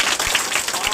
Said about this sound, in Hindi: इनके लिए एक जोरदार तालियां लगनी चाहिए